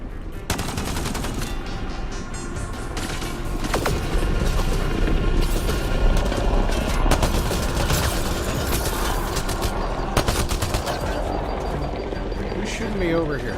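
Sustained, dense gunfire fills a Mass Effect Andromeda firefight, with rapid overlapping shots and bursts under a continuous loud rumble as voices talk in the game.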